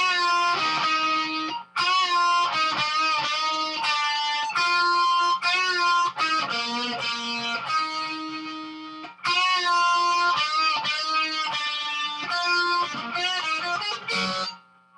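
Electric guitar plays a rock song's solo alone, a continuous run of sustained, bent lead notes with brief gaps, loud and close throughout.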